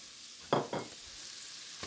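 Celery stalks and two small diced onions go into rendered bacon fat in a pan, a soft low sizzle punctuated by two quick louder scrapes or stirs near the start.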